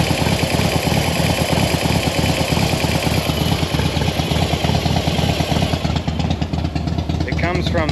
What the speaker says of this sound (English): you may get a little top end noise